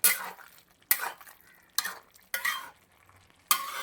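Mixed vegetable kurma curry is stirred in a pan, with five distinct scraping, slushing strokes in an even rhythm and quiet pauses between them, nothing else heard.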